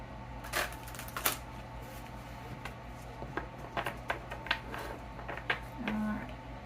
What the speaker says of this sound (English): shuffling tends to be fun when the decks are larger than my hands